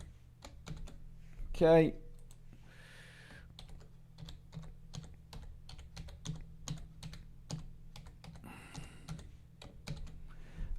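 Someone types a password on a computer keyboard, making soft, fairly steady key clicks throughout. A person speaks briefly near the start.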